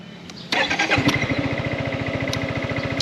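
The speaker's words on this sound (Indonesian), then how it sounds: "Gua nyalain dulu motornya." A 2023 Yamaha Xmax Connected scooter engine cranks and catches, then settles into a steady, close idle with a rapid even pulse.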